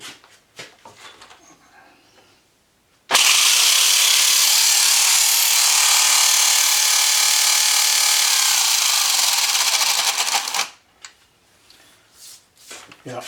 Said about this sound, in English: And now we'll get to see it running.